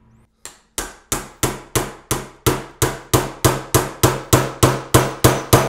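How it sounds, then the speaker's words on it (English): A hammer drives a chisel clamp into a JM Bullion Pop silver coin, about seventeen sharp, ringing metallic strikes at a steady, slightly quickening pace, close and loud with no talking. "we're gonna try this chisel clamp. See if I can hammer this down."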